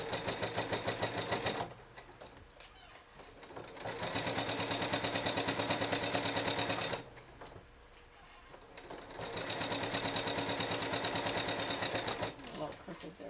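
A sewing machine stitching a quilt binding, steady rapid mechanical whirring in long close runs with brief slower gaps between, a voice talking over it.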